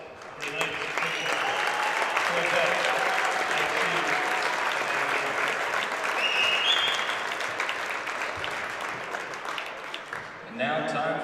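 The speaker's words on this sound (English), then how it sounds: "Give a big round of applause for tonight's officials." Sustained applause from a crowd at a high school basketball game, honoring the officials, fills the gym steadily for about ten seconds before tapering off near the end.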